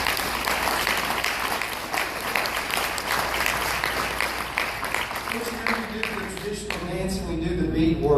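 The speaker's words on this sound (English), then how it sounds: "Let's give them a big round of applause" A crowd at a tribal community gathering applauds loudly and steadily for volunteers, then the clapping thins as a voice begins speaking near the end.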